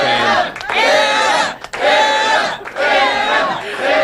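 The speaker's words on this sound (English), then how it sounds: "Very, very excited crowds now." An excited crowd of election-night campaign supporters at a candidate's headquarters cheers and yells in loud, close bursts, with brief dips between surges of shouting.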